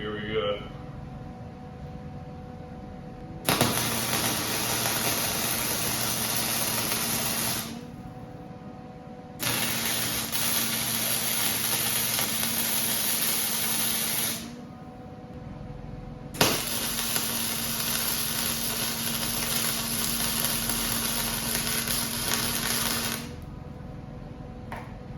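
Three long bursts of steady electric welding crackle and buzz on a Polaris 400 quad, each lasting several seconds with quiet gaps between them, heard close and without talk.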